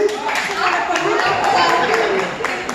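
Comedy-show audience clapping steadily, a dense, fairly loud patter of many hands with some voices mixed in underneath.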